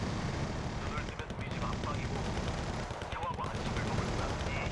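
Video game gunfire aimed at an Mi-24 helicopter gives dense rapid shots in a loud, busy battle mix with engine and explosion rumble behind it.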